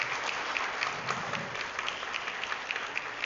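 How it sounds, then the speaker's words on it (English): An audience at a Gayatri Parivar Vasant Panchami event claps for an invited speaker, a steady, moderately distant wash of applause with no voices over it. "Please invite Oliver Ji with a huge round of applause"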